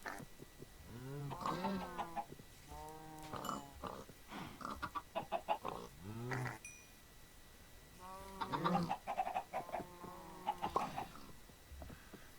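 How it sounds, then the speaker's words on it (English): Chickens in the modded game All The Mods 3 cluck and squawk in repeated bursts, with some barnyard animal calls mixed in, fairly faint and close with pauses between. "And this should give us little chickens."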